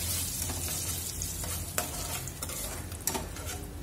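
Pepper and cumin fry in hot oil for South Indian ven pongal, giving a steady, close crackling sizzle with a few light clinks of a stirring spoon.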